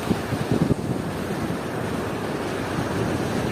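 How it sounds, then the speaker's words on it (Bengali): Surf rolling onto Pondicherry's beach near a stretch of rocks and moored fishing boats, a steady broad wash of waves under heavy wind rumble on the microphone, with a few louder buffets at the start. "এসেছি স্যানেটি বিচ এটা পন্ডিচেরিতে পন্ডিচেরি জল চলে আসছে বিচটা সুন্দর"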